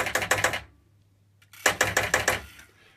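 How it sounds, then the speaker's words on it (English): Two pop bumpers on a Zaccaria Ski Jump pinball machine under restoration firing in quick rapid bursts of sharp mechanical clacks, two clusters separated by a short silence, close and loud. "both pop bumpers firing. They came up on the reset. They're making noise."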